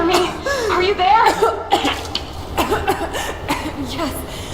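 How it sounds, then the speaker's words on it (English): Lara Croft coughs in Rise of the Tomb Raider, a few strained, raspy bursts mixed with hoarse vocal sounds, close and fairly loud. "You started coughing, said something about flowers and pollen"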